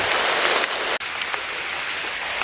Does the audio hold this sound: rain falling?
yes